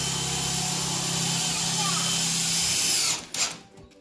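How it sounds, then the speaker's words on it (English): A chainsaw cuts quickly through wood for garden bed rails outdoors, a loud, steady, buzzing engine whine that runs continuously for about three seconds before cutting off abruptly. "And that's the way you do it, with the chainsaw, super fast."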